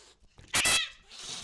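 A cat gives one short, loud meow in the middle of an otherwise quiet moment, with faint low background noise around it.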